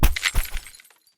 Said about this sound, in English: hurled the screwdriver forward at the wall, screaming as the handle shattered against the wall, sending the screw head flying